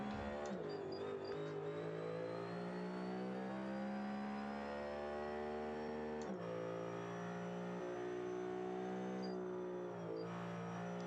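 A V8 race car engine drones and revs from inside the car, its pitch climbing steadily, dropping sharply at a gear change, then rising again, fairly quiet overall with no talking.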